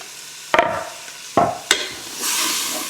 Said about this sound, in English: I'm just gonna saute them till the onions and celery are soft